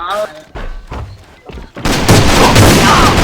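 Gunfire from the video game AVA (Alliance of Valiant Arms), heard as a dense, loud burst of rapid shots that takes over the second half after scattered thumps, with speech in the first part.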